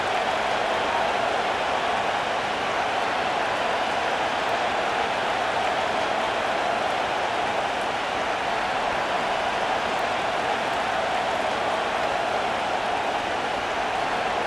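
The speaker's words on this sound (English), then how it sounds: "the rain only intensifying as the teams are back out here" Steady, dense rain pours over an NFL stadium during a San Francisco 49ers versus Cleveland Browns game in Madden NFL 25, an even hiss that stays unbroken and constant throughout, with no talk over it.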